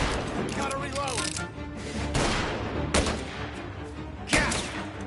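Gunfire in the crime game Mafia crackles in sharp, irregular bursts with a loud report near the end, mixed under excited talking voices throughout.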